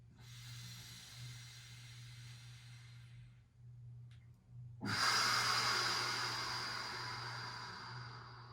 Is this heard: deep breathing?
yes